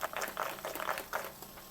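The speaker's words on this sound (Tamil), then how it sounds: "எல்லாத்தையும் சேர்த்துட்டு நல்லா மிக்ஸ் பண்ணணும். சுகரெல்லாம் நல்லா மெல்ட் ஆகி வரும்." Homemade chocolate and sugar mixture melting in a pan, bubbling and sizzling softly in short bursts as it is stirred, faint and close.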